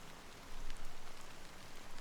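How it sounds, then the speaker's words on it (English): Steady rain patters in the game Honkai Star Rail, a dense even hiss of drops that thickens slightly partway through and carries on with no voices over it. "how long has this rain been going on for?"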